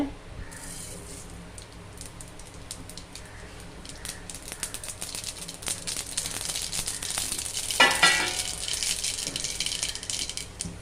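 Hot oil sizzles and crackles as spices are tempered for rasam, a steady close frying hiss that grows slightly louder and busier toward the end.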